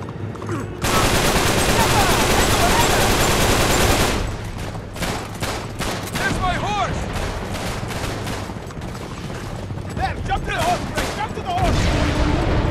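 Gunfire in the video game Uncharted 3: Drake's Deception Remastered: dense, loud bursts of rapid shots and fusillades that pour on almost nonstop for several seconds, with a brief opening pause.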